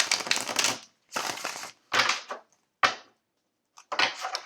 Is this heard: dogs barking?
no